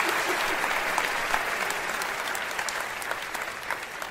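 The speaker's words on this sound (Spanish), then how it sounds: "fuerte el aplauso para Diego" Comedy club audience in Guadalajara applauding a volunteer named Diego, a loud, steady burst of crowd clapping that holds evenly throughout.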